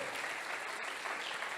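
Congregation at a church service applauding God, a steady broadband wash of many hands clapping, fairly distant and even throughout.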